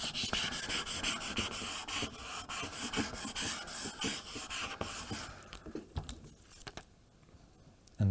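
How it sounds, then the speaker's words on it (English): A scraper tool rubbed firmly back and forth over a Cricut Smart Stencil design on transfer tape, making a fast, continuous scratchy rasp up close that thins out toward the end. "I'm going to use my scraper tool just to make sure we've got all of the design done"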